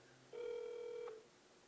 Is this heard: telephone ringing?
yes